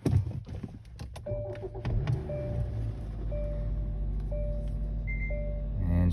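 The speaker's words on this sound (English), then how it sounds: "Try to start the car." A 2015 Hyundai Sonata engine cranks and catches after keys are reprogrammed, a few sharp transients followed by a steady low idle rumble with a faint chime tone recurring, no talk.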